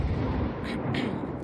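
Naval guns firing from warships in World of Warships, heavy low rumbling booms and a couple of sharper bursts rolling under a continuous battle din, moderately loud throughout.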